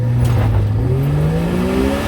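Jeep with a carbureted intake accelerating from 10 to 40 mph, engine note rising steadily in pitch as it pulls, loud and close from inside the vehicle.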